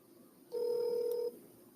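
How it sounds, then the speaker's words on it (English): A telephone dials out with one steady electronic tone that lasts under a second before falling silent, heard alone and clearly. "just waiting for the phone to dial out"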